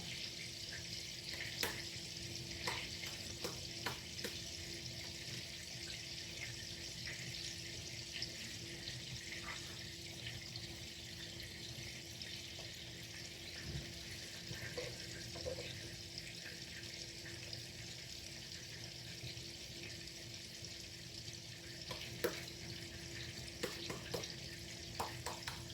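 Hands are washed under a running kitchen tap while chicken fritters are being made. A steady, fairly faint stream of water splashes throughout, with occasional small knocks and clatters and no talking.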